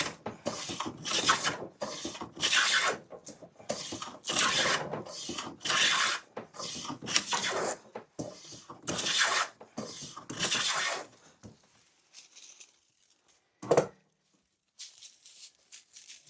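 A vintage woodworking hand plane shaves wood in a string of rasping forward strokes, each about a second long, close and fairly loud, then a short pause and a few quieter scrapes.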